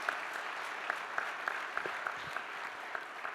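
An audience at a governors' summer meeting opening ceremony applauds the staff, a steady, moderately distant wash of clapping from a large hall crowd.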